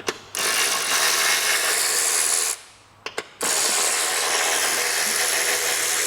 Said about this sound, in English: pretty simple to remove the seat, 10mm ratchet